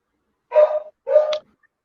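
A dog gives two short barks in close succession, fairly loud and near, followed by quiet.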